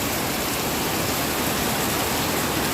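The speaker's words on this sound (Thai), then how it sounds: "ตอนนี้ฝนกำลังตกหนักเลยนะ" Steady, heavy rain pours down at a large dam in Kanchanaburi, Thailand, in a dense, unbroken hiss, loud and close, with no voices.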